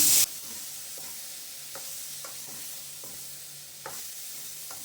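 Chopped tomatoes and onions sautéing in a pan for capsicum chutney, a steady low sizzle broken by several distinct scrapes of a spoon stirring at an uneven pace.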